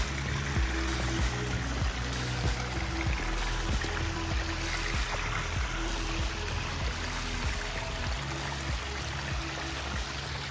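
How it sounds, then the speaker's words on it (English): Water pours steadily over an outdoor water feature of four waterfalls set among Pennsylvania fieldstone, making a dense, unbroken rushing and splashing that holds loud and close throughout. "a magnificent water feature incorporating four"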